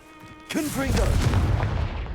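A booming blast from the Confringo spell in Hogwarts Legacy bursts out right after a short tone and rolls on as a loud, rumbling low explosion with crackling debris, while a voice speaks over the start.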